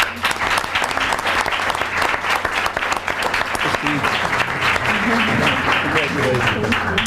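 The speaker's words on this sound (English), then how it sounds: "So an extra special applause for the families out there." An audience at a school board of education meeting claps for families, giving dense, loud applause that holds steady for about seven seconds.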